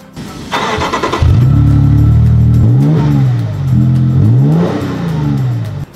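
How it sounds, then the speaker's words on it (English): A Lexus LX600 twin-turbo engine fitted with a MagnaFlow Overland Series catback exhaust starts and revs. A loud, deep exhaust note rises and falls through several throttle blips close by. "they created an Overland Series catback performance exhaust system. Let's hear that just for a second."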